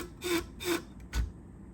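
The blade of a pair of Fiskars pinking shears is ground in three short rasping strokes, each a brief gritty rub close by, with quiet gaps between.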